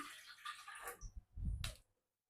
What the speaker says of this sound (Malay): pertama kita masukkan satu cawan air